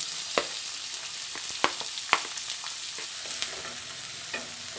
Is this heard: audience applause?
no